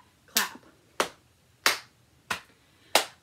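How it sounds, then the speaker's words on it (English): Five evenly spaced, crisp hand sounds, clapping and finger snapping in a steady rhythm, close and clear with quiet gaps between each hit during an adult music activity. "I got a pat, clap, snap."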